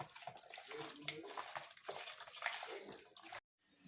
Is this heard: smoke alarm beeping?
no